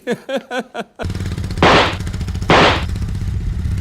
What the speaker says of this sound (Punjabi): ਬੁਲਟ ਦੇ ਪਟਾਕੇ ਪਾਉਣਾ ਤਾਂ ਫੁਕਰਿਆਂ ਦਾ ਕੰਮ ਹੈ।